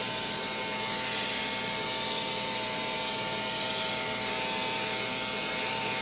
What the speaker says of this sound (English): And now it's spraying a very fine mist.